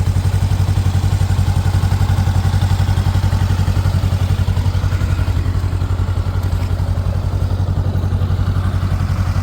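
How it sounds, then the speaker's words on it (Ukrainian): A 2020 Honda CB400X ABS touring enduro motorcycle idles close by, a loud, constant low throb with even rapid pulses that stays unchanged throughout. "ідеальна робота двигуна."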